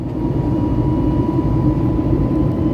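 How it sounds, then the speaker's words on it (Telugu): Steady, droning cabin noise aboard an Akasa Air airplane in flight, a dense low engine and airflow roar holding constant throughout with no talk. "ఆ విమానంలో ప్రయాణం"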